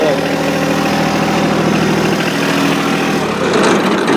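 A farm tractor idles steadily near a barn, a loud continuous mid-low engine chug that holds even throughout with a slight surge near the end, no voices over it.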